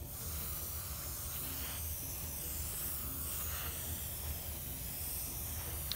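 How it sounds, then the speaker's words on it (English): An airbrush sprays Mission Models aluminum metallic paint, making a soft, steady hiss that runs continuously for six seconds, faint and alone, with no talking. "Now, aluminum is naturally a lighter color, so you're gonna wanna do several passes and build up. So let's start spraying."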